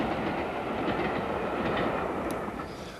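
Steam locomotive train running on the Great Central railway, a steady broad rumble of rolling stock with faint rhythmic clatter, moderately distant and fading slightly at the end, with no talk.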